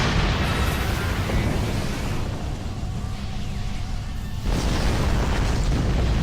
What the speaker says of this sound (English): And with another high yield plasma torpedo. If it'll actually, fire.